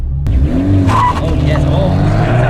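A Honda Civic Type R FK2R pulling away hard in first gear in +R mode, a loud close engine drone rising in pitch, with a voice talking over it.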